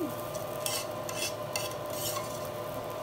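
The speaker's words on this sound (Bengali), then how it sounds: "এই যে চালটা সুন্দর করে ভাজা নিতেছি" Steady sizzling and stirring in a pan, with bursts of scraping as rice grains are fried and turned for chicken biryani, continuous and close.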